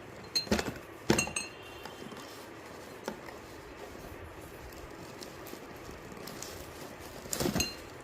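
Cups from a two-piece porcelain tea set clink together as they are handled, a few sharp chimes near the start, one isolated tap midway and a brief rattle toward the end, close by and otherwise quiet.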